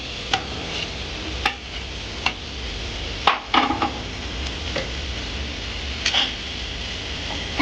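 A spoon stirs crab curry with tomatoes and onions in a pan, giving sporadic scraping clicks and taps over a soft background sizzle, close and fairly quiet, with no talking.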